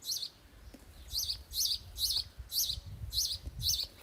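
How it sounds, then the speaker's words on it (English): A house sparrow chirps in a regular series of about eight sharp, bright calls, moderately near, over a soft low outdoor background. "It's a sparrow."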